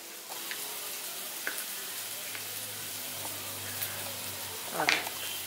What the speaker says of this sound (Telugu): సో ఆనియన్స్ అన్ని బాగా ఫ్రై అయ్యాయి కదా